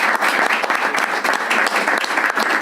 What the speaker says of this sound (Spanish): Vamos a darle un aplauso a este señor por Juan todo Berín.